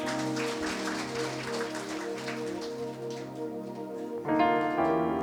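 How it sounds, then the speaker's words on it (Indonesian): A church congregation breaks into sustained applause during a sermon, a dense wash of clapping that fills the room, joined near the end by swelling music. "Tepuk tangan dong buat Tuhan."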